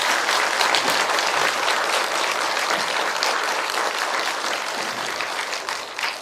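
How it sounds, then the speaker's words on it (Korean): Sustained applause from an audience at the close of a Buddhist dharma service, a dense steady clapping that fills the whole stretch and gradually thins toward the end, with no talking over it. "다시 한 번 더 큰 박수 보내주세요"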